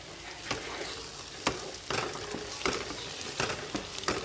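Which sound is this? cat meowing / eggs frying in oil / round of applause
eggs frying in oil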